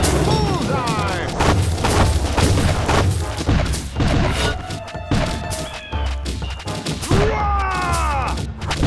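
Musketeer towers in the tower-defense game Kingdom Rush fire dense, overlapping musket volleys with booming thuds, a continuous loud barrage under shouted game voice lines.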